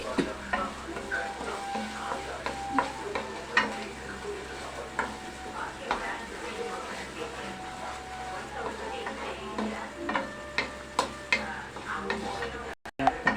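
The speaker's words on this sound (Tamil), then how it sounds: "இப்போ நல்லா வதக்கிக்கலாம்." Masala sautés in a pan for paneer butter masala, a steady sizzle close by with repeated scraping and stirring clicks from a utensil, and faint speech now and then underneath.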